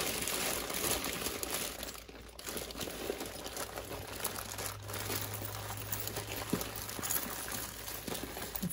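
A plastic bag crinkles and rustles steadily as jewelry is unwrapped from it, a close, continuous crackling texture with a faint low hum in the background.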